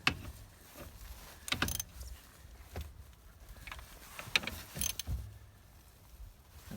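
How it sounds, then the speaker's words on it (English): Ratchet snugging down the bolts of an ignition lock on a Škoda Octavia: a few short clicking bursts and mechanical rattles at close range, with quiet gaps between them and no talk. "Just get a ratchet to give these a little snug down."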